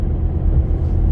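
Low, steady engine rumble from a 2017 Ford Fiesta on the road, heard from inside the car, with no voices over it.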